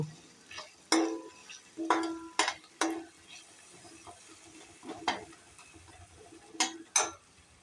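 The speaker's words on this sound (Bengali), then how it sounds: "আদা রসুনটা একটু কষে নেব, কাঁচা গন্ধটা চলে গেলে তারপরে আবার মশলাগুলো দেব।" Ginger and garlic sauté in a pan for coriander chicken: a string of spatula scrapes and stirring bursts over a faint, soft sizzle, quiet between strokes.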